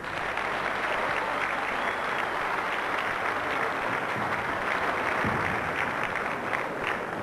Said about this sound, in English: huge applause there for Norman Fletcher, one of the favourite players around the circuit in Crown Green bowling